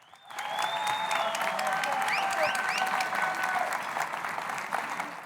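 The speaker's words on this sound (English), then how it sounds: "Let's have a round of applause." Crowd applause fills a Muay Thai main event venue, loud, steady clapping sustained for several seconds, with whistles and cheers rising through it.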